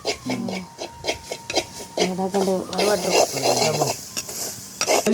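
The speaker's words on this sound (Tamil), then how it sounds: "ஓகே இப்போ வறுத்து கொண்டிருக்கிறேன்" Masi sambal ingredients fry in a pan with a soft sizzle and repeated scraping stirs of a utensil against the metal. A person talks over the cooking.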